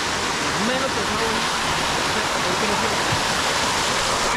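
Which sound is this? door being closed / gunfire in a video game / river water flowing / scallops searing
river water flowing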